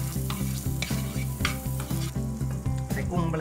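Butter sizzling in a hot frying pan on the stove, a constant crackling hiss under repeated rhythmic stirring or scraping clatter, close and even, with no talking.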